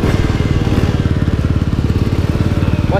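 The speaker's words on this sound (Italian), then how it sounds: "devo scalare tre marce per andare avanti con questa moto" Motorcycle engine close by, pulling hard in a low gear after dropping three gears on a rough road; a loud, fast, throbbing pulse that holds steady for a few seconds.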